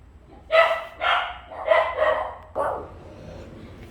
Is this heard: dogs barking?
yes